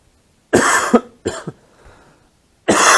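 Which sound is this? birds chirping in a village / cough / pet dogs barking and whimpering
cough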